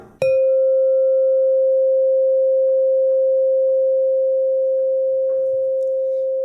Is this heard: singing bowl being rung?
yes